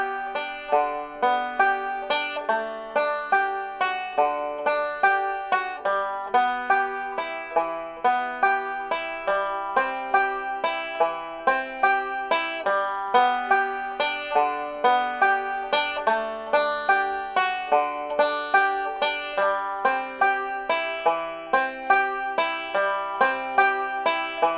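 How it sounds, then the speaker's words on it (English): Banjo alternating thumb roll steadily picked through a chord progression, slow even plucked notes with sharp attacks repeating for many bars, clear and close with no voices. "Let's try very, very slowly the alternating thumb roll to this progression."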